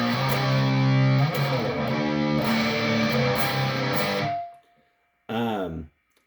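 Electric guitar played through a Lil Rat distortion pedal, thick saturated chords ringing loudly then cutting off, followed by a short distorted bend-like note after a brief pause; no talking.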